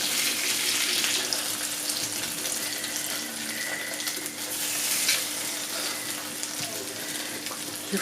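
Mieliepap cakes fry in a pan with a steady, close sizzle and crackle that runs the whole time, sometimes rising in brief bursts, and nobody talks over it.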